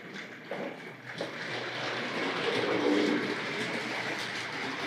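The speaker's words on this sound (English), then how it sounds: "And that should make the tank locomotive move away there." A Tri-ang model railway tank locomotive pulls away along the track, giving a steady, moderately quiet electric hum and rolling rumble with faint rhythmic clicks from the rails and no speech.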